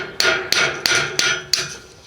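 A hammer drives a nail into metal skirting along a mobile home, five sharp metallic strikes in steady rhythm, each ringing briefly before the next, loud and close with no talk.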